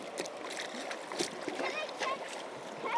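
Water splashing and sloshing as a container is rinsed out in an outdoor stream during a nature day, with irregular close splashes and a faint voice in the background.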